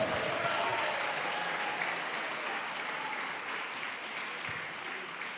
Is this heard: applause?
yes